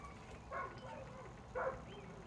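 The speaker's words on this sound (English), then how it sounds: "I don't know why that dog's barking." A dog barks twice in the background, two short yips spaced about a second apart over steady room noise, with no talk.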